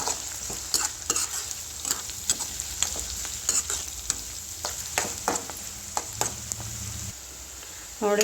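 Chopped onions sizzle and fry in a pan as the base for an amaranth leaf stir fry, with steady hissing and repeated scrapes and clinks of a spatula stirring, close and moderately loud.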